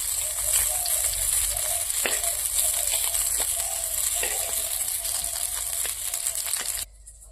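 Fish frying in a pan, some pieces burnt from late turning, give off a steady, close, loud sizzling hiss with scattered crackles that cuts off abruptly near the end.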